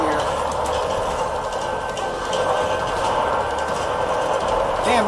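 A moving train in the video game World War Z rumbles and clatters steadily at close range, with a continuous mechanical roar throughout.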